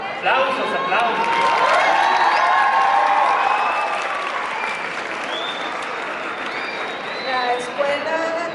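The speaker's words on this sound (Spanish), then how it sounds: "Aplausos, aplausos" A school audience of students breaks into loud, sustained applause, with young voices calling and cheering over the clapping before it eases slightly.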